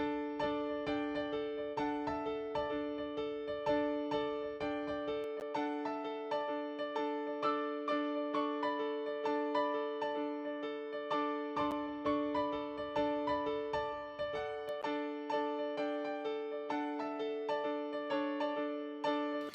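Bright, twinkly high piano notes ring out in a steady flowing pattern of repeated chimes, sustained and sparkling with no voices.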